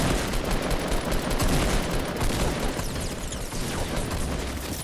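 Continuous dense gunfire from a Fortnite battle with snipers, rapid overlapping shots forming a loud, unbroken crackling barrage with no talking.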